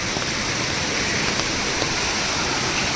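Forceful waterfall at Marleshwar, a steady, dense roar of rushing, splashing water that fills the whole clip without pause, loud and close, with no voices heard.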